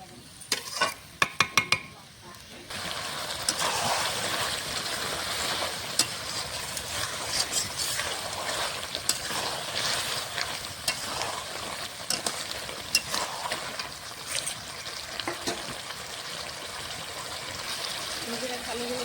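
Chicken braises in water for Bengali kosha, bubbling and sizzling steadily with a soft trickling texture and a few sharp clinks at the start, while a voice talks over the cooking.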